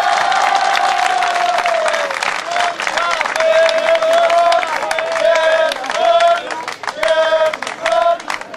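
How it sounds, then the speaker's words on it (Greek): A crowd applauds at a football club's promotion celebration in Trikala, dense clapping mixed with cheering while a voice speaks over a loudspeaker on and off throughout. "Θερμό χειροκρότημα"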